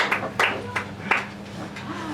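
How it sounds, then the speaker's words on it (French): A few scattered claps ring out sparsely, a small irregular smattering of applause against a low background hum. "Les applaudissements sont la nourriture des artistes"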